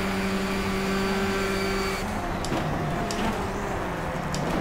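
Race car engine of a Renault Clio Cup car in the racing game Stock Car Extreme, a steady droning hum with a low tonal whine that fades after two seconds, leaving a rough rumble with faint clicks near the end.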